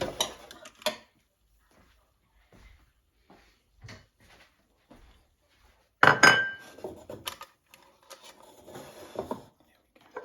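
Plates and dishes clink and knock in short, scattered bursts while salmon tikka is served, with a louder clatter of crockery partway through and quiet gaps between the sounds.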